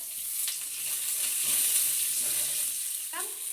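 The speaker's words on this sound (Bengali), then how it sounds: "এটা একটু ভেজে নেবো" Whole spices and cashews sizzle in oil in a kadai over gas, a continuous close hiss with scraping stirs and a brief crackling flare toward the end.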